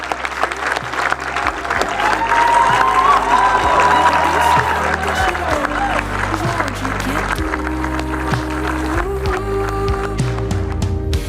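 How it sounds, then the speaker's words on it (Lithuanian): Sustained applause from a crowd, steady and loud for the whole stretch, with some voices mixed in beneath the clapping. "garsus aplodismentai Ritai Macijauskienei"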